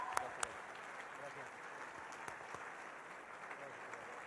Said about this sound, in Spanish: demos un fuerte aplauso al secretario Enrique de la Madrid